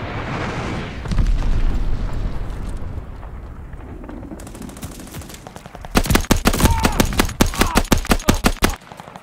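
Glide bomb strikes in Call of Duty multiplayer: a rumbling barrage of explosions early on, then a dense run of sharp, loud, rapid blasts and gunfire-like cracks near the end, with no talk.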